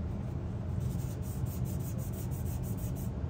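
Soft, steady rubbing as excess is wiped away from a 3D-printed Star Wars pit droid part, a continuous close scuffing texture with faint rhythmic strokes and no talking.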